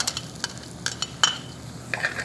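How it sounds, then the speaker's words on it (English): A quarter cup of onion sizzles softly in a hot pan while a utensil stirs it, with brief scraping clinks over a steady low frying hiss. "We'll stir that in, and we're going to cook this down until these onions are just translucent."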